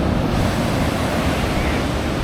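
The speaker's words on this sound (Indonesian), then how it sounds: "Nah inilah suasana pantainya." Beach at sunset on Sumatra's west coast, a loud, steady wash of ocean surf with wind buffeting the microphone, a continuous roar with no voices.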